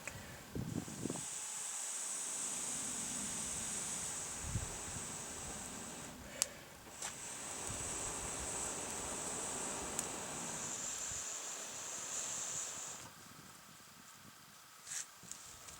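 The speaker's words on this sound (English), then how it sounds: "we can just direct the wind that we're blowing, extra oxygen, into the fire, just like this." Air blown through a short metal-tipped tube into a campfire, a steady breathy hiss rushing close and fairly loud for long stretches, broken by brief pauses between breaths.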